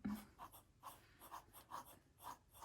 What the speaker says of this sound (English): we get to sort of just listen to our pens scratching on the